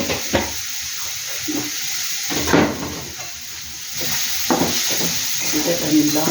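Spices sizzle in hot oil with salt and turmeric for a Bengali lunch dish: a steady frying hiss with occasional louder crackling bursts and stirring, with a voice speaking over it.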